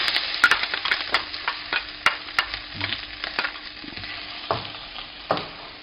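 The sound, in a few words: stir-frying Thai chilies for pad krapow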